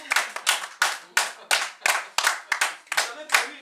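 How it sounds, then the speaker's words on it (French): An audience at a French theatre company's stage performance claps in unison, about a dozen sharp, evenly spaced claps in a brisk rhythm, close and loud. "Vous pouvez l'applaudir déjà, hein?"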